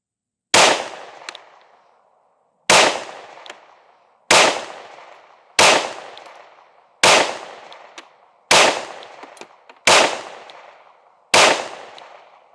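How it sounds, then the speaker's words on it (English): A Sig Fuse pistol fires eight sharp, loud shots, each ringing out and decaying before the next, spaced about one to two seconds apart. "I'm gonna put 5 to 7 rounds through the fuse"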